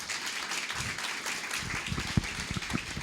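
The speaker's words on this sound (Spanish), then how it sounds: "me gustaría que podamos dar un fuerte aplauso a Dios" A congregation at a church service claps together, a steady, even wash of applause at moderate volume with a few sharper individual claps standing out toward the end.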